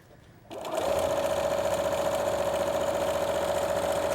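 Sewing machine fitted with a darning foot starts up and runs a straight stitch, a steady close whirring hum held at constant speed after a quiet lead-in, with no voices.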